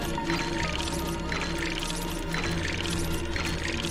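Glitching river water in the game Dome Keeper: a continuous splashy, pouring rush with repeating surges at a fairly even rhythm, heard alone without any voices.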